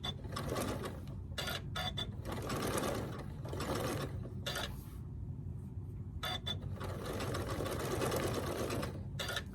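A sewing machine zigzag stitching applique on a quilt-as-you-go table runner, running in loud bursts of rapid mechanical chatter separated by short pauses.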